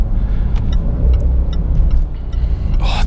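Loud, steady rumble of a 2019 Jaguar F-Pace SVR's 550 hp V8 cruising on the Autobahn, heard from inside the cabin, with a few faint clicks and a brief rising surge near the end.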